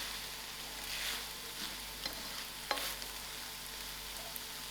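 Green peppers frying in a pan for chicken spring rolls, a steady soft sizzle with light stirring scrapes and occasional small clicks, close and fairly quiet with no talking.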